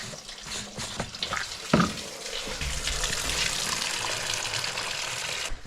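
Coolant drains from an Audi A4 1.8T engine, a steady gushing pour like a running tap that holds constant for several seconds, with a few faint metallic clicks near the start.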